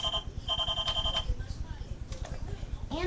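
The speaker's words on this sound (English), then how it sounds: "you can put a chair or something, and the phone actually rings." A toy telephone rings with bright electronic tone bursts, two short rings close by, while a voice speaks nearby and other playful noises follow.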